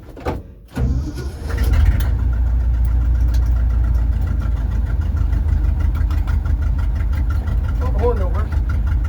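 A truck engine with a non-tilt deck cranks and catches after a brief pause, then settles into a loud, steady, slightly knocking idle close by, with a voice speaking briefly near the end.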